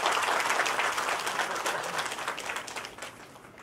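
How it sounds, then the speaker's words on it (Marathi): Audience applause at a civic awards ceremony, the Mayor Award in Mumbai, for the state's ministers: a steady, dense wash of clapping from a large crowd that holds for several seconds, then gradually thins and fades. "त्यांच्यासाठी एकदा टाळ्या होऊन जाऊ"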